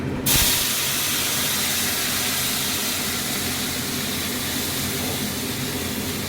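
Ground onion, ginger and garlic paste hits a hot pan with a loud sudden sizzle, then keeps up a steady, dense, close frying hiss throughout.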